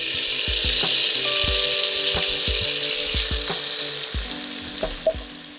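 Vegetables sizzle hard in a pot of leftover lamb-marinade oil, giving a loud, steady hiss of frying while a utensil scrapes and knocks repeatedly against the pot as they are stirred.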